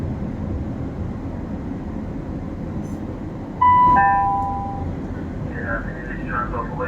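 A Transport for Wales train runs on the Valley Lines in Cardiff, a steady broad rumble that swells as a brief two-tone horn sounds, followed by a voice over the continuing noise.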